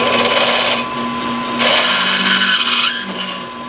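A harsh, continuous grinding rasp of a 7mm reamer cutting pin holes in a steel AK center support, loud and close, surging in two bursts with a faint hum underneath.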